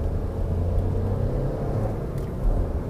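Skoda Fabia 2010 with a 1.2 engine revving as it drives, a steady low rumble heard from inside the cabin that rises slightly near the end, with no talking.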